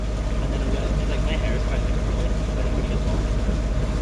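A sailboat motor-sailing under engine off Tarbert, Scotland, a steady close drone of the inboard motor with constant broadband rumble and hiss of water and wind, unchanging throughout.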